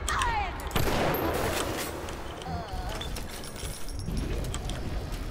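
Shotgun blasts in the BioShock video game: a few sharp, loud reports with a heavy one near the start and another later, amid game clatter and mechanical effects, with a voice talking briefly.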